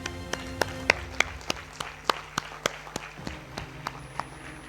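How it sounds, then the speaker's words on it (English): Applause at a university convocation: sharp, evenly spaced handclaps in a steady rhythm, close and fairly quiet, over a low hum in the hall. "Please take a moment to applaud yourselves for all that you have accomplished."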